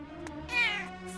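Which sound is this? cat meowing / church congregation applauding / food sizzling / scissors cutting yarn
cat meowing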